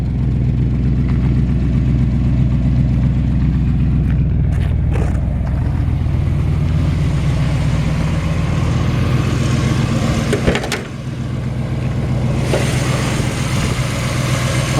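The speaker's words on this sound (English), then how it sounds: "It's got a really nice sounding exhaust, actually." A 1964 Ford Galaxie Convertible idles with its old exhaust pipes and tired muffler, giving a loud, steady, deep rumble close by that holds evenly throughout, with a brief dip near the end.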